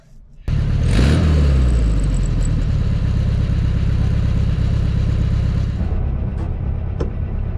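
A VW Beetle 1200 engine starts with a sharp onset and then runs steadily, a loud, close air-cooled rumble that holds for several seconds before easing slightly near the end.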